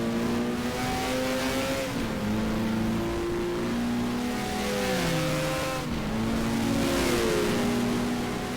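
Alfa Romeo race car engine in the racing game GTR2 at Monza, revving high and climbing through gears, its pitch dropping at each shift before rising again, loud and continuous with no talk.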